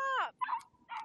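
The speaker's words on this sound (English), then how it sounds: "These dogs." Dogs let out a high, drawn-out whimpering whine followed by two short yips and barks, close and fairly quiet.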